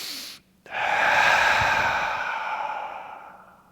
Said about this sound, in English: Open mouth. Exhale all the air out.